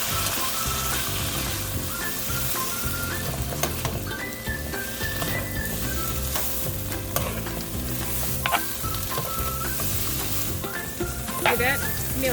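Pad Thai noodles stir-fry with their sauce in a hot pan, a constant close sizzle broken by irregular utensil scrapes and clicks, with faint tonal whistles drifting in the background.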